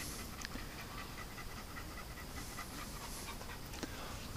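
A dog named Dug panting hard and fast after chasing a fox, a steady close breathy rhythm running continuously over outdoor background noise.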